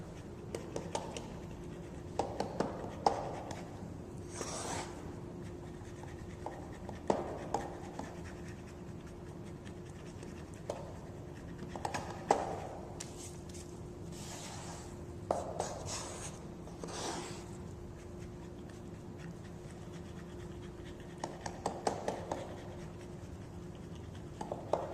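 A paddle cuts and folds Japanese sushi rice in irregular soft scraping and tapping strokes, close and quiet over a faint steady hum.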